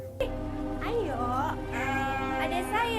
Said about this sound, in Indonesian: Kemudian Ririn pergi dengan membawa seekor kambing berwarna hitam.